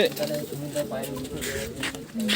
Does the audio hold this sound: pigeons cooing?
yes